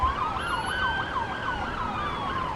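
An ambulance siren on a Minneapolis street, wailing in steady rising and falling sweeps, fairly loud and fairly close over low traffic rumble, with no voices.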